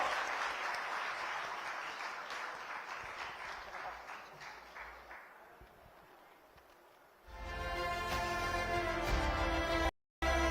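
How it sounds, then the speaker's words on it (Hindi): At the News18 Rising Madhya Pradesh 2025 event, an audience applauds to welcome Uma Bharti on stage: several seconds of dense clapping that gradually fades, then gives way to a louder, steadier hall sound before a brief cutoff. "तालियों के साथ अभिनंदन करिए उमा भारती जी का।"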